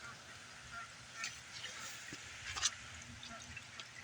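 Ducks splashing around a backyard pool give faint honking quacks over soft trickling water, with a few brief calls clustered near the middle.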